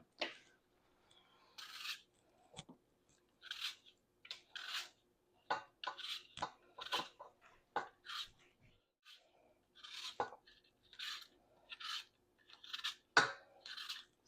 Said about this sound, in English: So what we're going to do first is start peeling our apples.